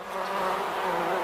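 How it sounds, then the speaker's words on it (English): Loud, continuous buzzing of bees, a steady close drone with no other sounds. "bees,"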